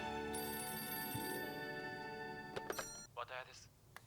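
A corded landline telephone rings in an anime episode, its repeated electronic ring tones sounding under a soft background, then cutting off as voices speak briefly near the end.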